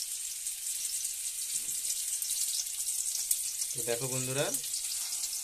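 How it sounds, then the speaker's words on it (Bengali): Egg batter spooned into a hot pan around rings of snake gourd gives a continuous bright sizzle, close and even, with a person speaking briefly over it. "তো এর মাঝখানে ব্যাটারটাকে চামচ দিয়ে অল্প অল্প করে দিয়ে দেবো"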